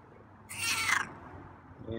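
A feral cat gives a single drawn-out meow, close and fairly loud, rising and falling over about half a second, followed by a brief softer sound at the end.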